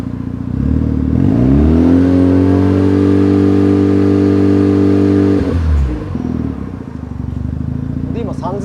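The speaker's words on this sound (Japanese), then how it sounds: "じゃあ吹かしますよ。" A Mazda RX-7 FD3S Type-R engine is blipped from idle, climbing to a held, loud drone of roughly 3000 rpm for a few seconds before dropping back to idle. A faint voice follows at the end.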